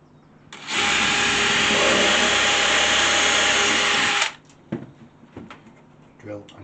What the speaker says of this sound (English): drill and countersink.